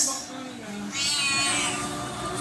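A cat's meow, close and fairly loud, with a strained, drawn-out tone; background noise sits underneath.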